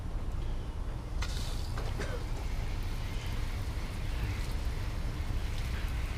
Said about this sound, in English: Now you can just go ahead and rinse the bike off.